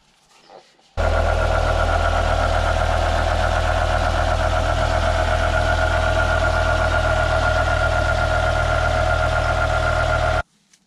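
A BMW E60 M5 engine fires up after an oil refill and settles into a steady, loud idle with a constant low rumble and mechanical whine, running unbroken for about ten seconds.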